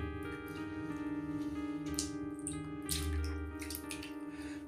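Water from soaked dal being drained through a strainer in a home kitchen, a soft continuous trickle and splash running steadily under a faint background hum, close and fairly quiet.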